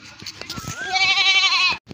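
Goats bleat out in a field, a loud wavering call that rises and holds near by, with other goats being driven along and faint background noise.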